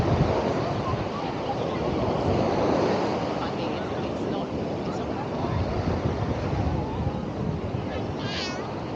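Ocean surf breaks on an exposed beach on Australia's Central Coast under southerly swell, a constant loud rushing wash mixed with heavy wind buffeting on the microphone.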